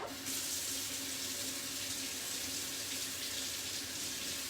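Water runs steadily from a kitchen tap as an onion is washed, a continuous hiss-like splash at low level throughout with no talk.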